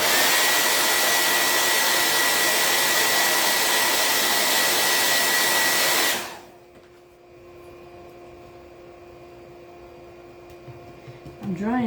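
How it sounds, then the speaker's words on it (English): A hair dryer blows steadily and loudly on a patriotic stars craft project for a fireplace mantel, a constant whirring roar that cuts off abruptly after about six seconds, leaving a quiet room with faint hum. "I'm drying it so that I don't pick it up with my transfer"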